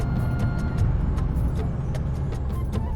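A bus moves slowly along a rain-wet mountain road near Palampur, a steady low engine and road rumble holding at an even level throughout, with no talking.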